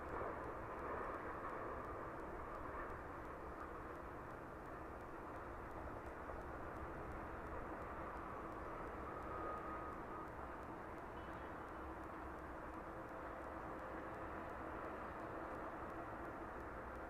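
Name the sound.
Ryanair jet climbing away from East Midlands Airport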